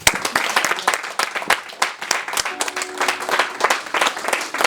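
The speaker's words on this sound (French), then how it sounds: "Acclamez pour vous-même." A church congregation breaks into sustained applause, many hands clapping in dense, uneven bursts that swell and dip for several seconds, close and lively.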